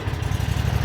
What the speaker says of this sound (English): In the first crank, this thing fired right up.